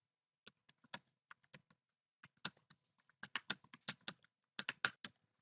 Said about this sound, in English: type it into the search bar at the bottom of the tab